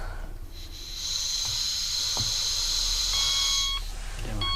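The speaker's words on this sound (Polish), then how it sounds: "mamy stuprocentową pewność, że czujnik gazu działa" A gas detector in a camping trailer, triggered by butane, sounds a shrill electronic alarm, a sustained high tone followed by shorter beeps, with faint clicks and hiss in the background.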